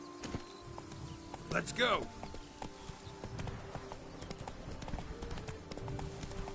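Hooves of Roach, a horse in the Witcher 3 video game, clip-clop steadily at close range under someone speaking briefly, with other game ambience in the background.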